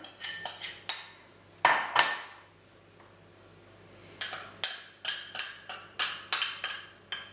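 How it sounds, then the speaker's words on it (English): A spoon stirs dry ANZAC biscuit ingredients, shredded coconut among them, in a mixing bowl, giving a close run of bright clinks and scrapes, then a pause, then steady rhythmic clinking, with no voices. "And I shall stir them to mix them together."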